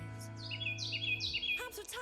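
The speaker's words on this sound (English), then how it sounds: "What's that bird?" Bird song near the porch of a country house, a series of clear high chirping whistles repeated several times at moderate distance over a low steady hum.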